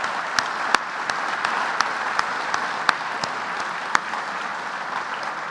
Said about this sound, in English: I'm going to ask you to give me one last round of applause for all of the honorees this evening